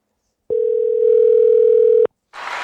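Phone call tone ringing through on a telephone, one long steady electronic beep of about a second and a half, loud and clean, followed by a brief burst of noise.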